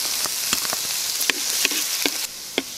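Garlic frying together with chicken gizzards and liver in hot oil for Bicol Express, a steady close sizzle with scattered stirring taps and scrapes of a utensil, heard alone without talk.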